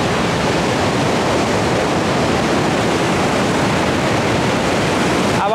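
Water rushes through the partly opened gates of Kota Barrage in a loud, continuous broadband roar with no pauses, close and steady throughout.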